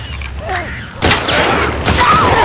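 Two loud, sharp bursts of gunfire from The Last of Us Part 2 video game: one at about one second and another near the end, standing out over a quieter game soundscape.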